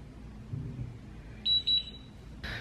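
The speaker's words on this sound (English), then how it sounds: "So we just got a beep out of that" A wireless curling iron gives two short high-pitched electronic beeps close by, followed by a brief rustle, against quiet room noise.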